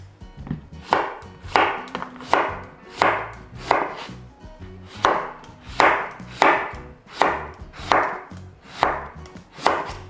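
A knife paring the tough ends off cucumbers for a Korean cucumber side dish, a rhythmic series of about a dozen strokes with a scraping edge at close range, steady and fairly loud, with no talking.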